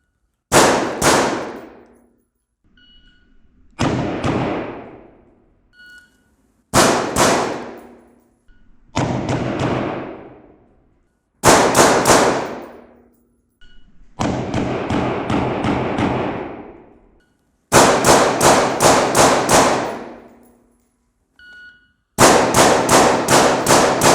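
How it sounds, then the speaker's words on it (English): Gunshots fired in controlled pairs on a timer during close-quarters shooting drills, sharp loud double reports coming in repeated strings separated by short pauses. "So shoot controlled pair, 2 shots in a string."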